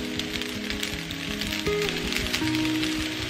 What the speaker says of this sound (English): Next, I'm going to add in my onions.